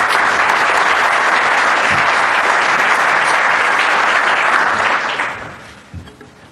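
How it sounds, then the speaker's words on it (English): Dense, loud audience applause fills a conference hall after a talk on antibiotic use, holding steady before tapering off into scattered claps near the end. "I don't want the applause"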